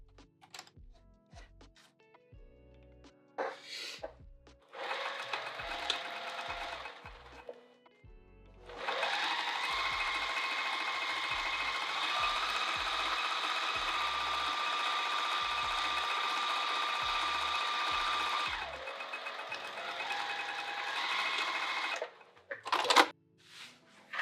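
A sewing machine stitches fabric for an undercover project, starting with short stop-start bursts of the motor, then running steadily and loudly for about ten seconds before slowing and stopping.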